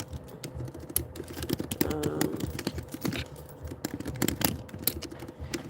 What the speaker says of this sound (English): sorry, I'm typing everything out.